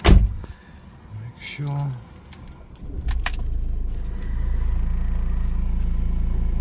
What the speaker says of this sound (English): let's just start the car